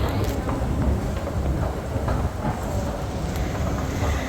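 Low rumbling metro train noise in Taipei, Taiwan, with rhythmic clattering, steady and close, as if riding inside a moving carriage; faint voices mix in the background.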